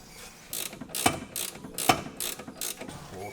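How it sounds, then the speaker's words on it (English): A ratchet threads a new 18mm strut bolt back in during a lowering-spring install on an E60 BMW M5, producing rapid close clicking strokes in a short quick rhythm, no voices. "we'll go ahead and take our new strut bolt, which is the big 18mm, and we'll go ahead and thread it back in."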